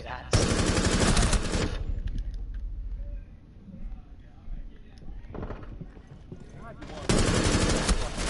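Automatic gunfire bursts from a Rainbow Six Siege match, loud and dense at the start, dropping to quieter clatter mid-clip, then a second heavy burst near the end.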